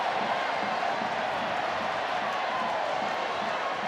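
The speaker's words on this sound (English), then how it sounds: "You can hear the sold-out crowd all evening in full voice." A sold-out stadium crowd at a France v Ireland women's rugby match roars in a dense, continuous wash of cheering that stays loud and unbroken throughout.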